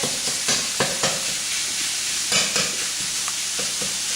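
Sausage for homemade pizza browns in a pan, sizzling constantly under several sharp scraping stirs as it is broken up, with no voices.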